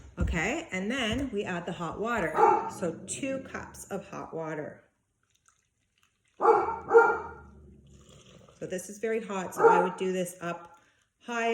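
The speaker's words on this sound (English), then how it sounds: "Excuse the dogs." Dogs bark in the background while a person talks over them, with a quiet pause partway through before the speech resumes.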